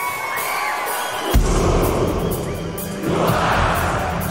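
Crowd cheering at a concert in Paris, a loud roar of a big audience with a sudden heavy bang partway through and the crowd noise swelling again near the end.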